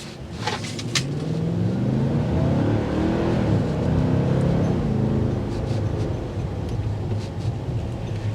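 A 2024 Nissan Titan Platinum Reserve pickup with a 400-horsepower engine drives along, giving a steady loud rumble and road roar that builds slightly and then holds.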